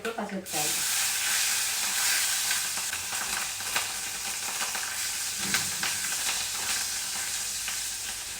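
Amaranth leaves fry in a pan while a spatula stirs and scrapes through them, a loud, unbroken sizzle with occasional knocks of the utensil against the pan.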